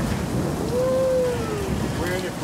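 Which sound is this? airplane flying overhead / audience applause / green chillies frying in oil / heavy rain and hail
heavy rain and hail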